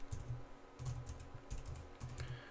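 Fingers type on a computer keyboard while entering text into Telegram, producing close, crisp keystroke clatter in several quick bursts separated by brief pauses, with no voices.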